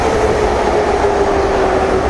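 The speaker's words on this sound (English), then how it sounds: "The train is coming in 1 minute. Oh, it's here. The train is here." A Hamburg U-Bahn subway train pulls into the station, a loud steady rumble of wheels on rail with a faint high squeal running through it, and no one talking.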